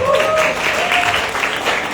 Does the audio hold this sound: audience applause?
yes